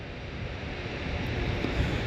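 Steady wind noise buffets the microphone with a constant low rumble and broadband hiss, no voices, lasting a couple of seconds.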